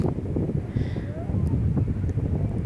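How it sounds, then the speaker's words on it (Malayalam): Hot wind off the sea in south Mumbai buffets the microphone with a deep, continuous rumble and gusty roar, while people talk faintly beneath it. "അതേപോലെ നല്ല ചൂട് കാറ്റും അടിക്കുന്നുണ്ട്"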